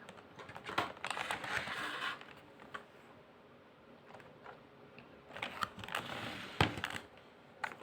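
Bursts of quick keyboard typing, close and fairly quiet, coming in uneven clusters with short pauses between them.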